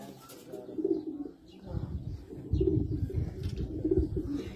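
Teddy flying racing pigeons in a loft give repeated low cooing calls close by, a steady murmuring stream with a few light chirps and no talking.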